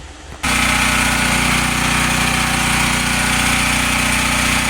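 A portable generator engine fires up after a pull-cord start and settles into a loud, steady, close running drone that holds for several seconds with no talk.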